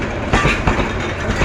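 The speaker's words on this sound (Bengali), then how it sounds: "আস্তে আস্তে যাচ্ছে ট্রেনটি ময়মনসিংহের দিকে।" A train rolls slowly along the rails toward Mymensingh, a steady rumble with soft periodic wheel clacks at close range and no voices.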